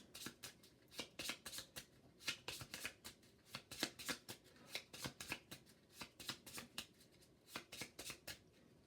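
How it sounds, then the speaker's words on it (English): Playing cards are riffled over and over in quick rhythmic bursts, crisp and close, each shuffle a short flurry of snapping. "I'm going to shuffle these up again."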